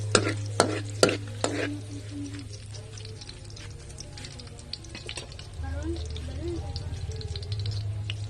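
Garlic and red onion sauté in a hot pan, a steady sizzle punctuated early by several sharp clatters of a utensil against the pan, then continuing stirring scrapes and crackle close by.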